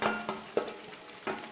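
Chicken sizzles and spits in hot ghee in a pan for a chicken ghee roast, with brief stirring scrapes on top of the steady frying hiss.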